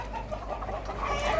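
Ohayil chickens clucking softly close by in a brief burst of low, murmuring calls over a steady background hum.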